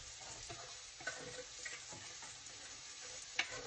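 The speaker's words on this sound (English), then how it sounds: "I'm going to take some of this flour and I'm going to throw it in here." Flour being stirred into buttermilk chicken drippings in a pan for country gravy, a steady soft sizzle with occasional scraping taps of the utensil, close and continuous with no voices.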